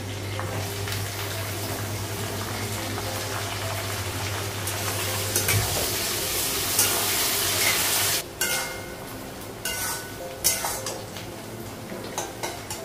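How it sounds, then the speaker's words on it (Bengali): Onion frying in a pan with whole cumin, a steady close sizzle with scraping stirs and clinks of utensil against the pan, a few sharper knocks near the end. "পেঁয়াজটা একটু ভাজা হয়ে গেছে"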